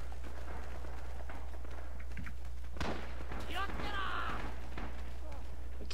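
Mortar fire in the video game Red Orchestra Rising Storm, a single heavy boom partway through, rising out of a steady noisy battlefield backdrop, with voices talking around it.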